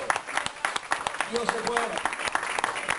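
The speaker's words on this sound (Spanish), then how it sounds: "Denle un aplauso al Señor." A church congregation claps during a Sunday Spanish-language sermon, with scattered clapping running throughout while someone speaks over it.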